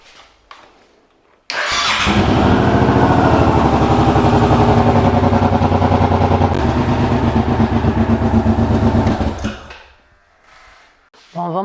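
A Suzuki Boulevard M1500 motorcycle cranks and fires up after repair work at home, then runs with a loud, steady, throbbing idle for about eight seconds before cutting off. Brief quiet handling noises come before and after.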